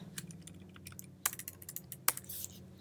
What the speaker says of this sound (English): You already hear my clicking.